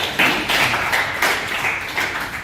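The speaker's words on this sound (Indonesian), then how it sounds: "Tepuk tangan dulu buat kelompok 3." A classroom of students applauds for a presenting group, a short burst of many hands clapping together at close range, steady and fairly loud, with no talk over it.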